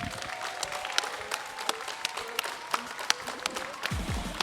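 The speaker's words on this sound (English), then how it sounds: "So once again, round of applause for Zach" Audience applause at a showcase event, a steady patter of many hands clapping at moderate distance, thinning toward the end as a low rumble enters.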